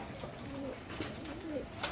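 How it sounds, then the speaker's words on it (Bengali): A racing pigeon coos up close, giving a few soft, throaty rolling coos in quick succession over a quiet background. "এখানে আছে একজন রেসার কবুতর ভাই"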